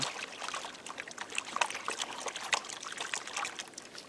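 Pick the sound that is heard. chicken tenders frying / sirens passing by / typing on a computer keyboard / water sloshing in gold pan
water sloshing in gold pan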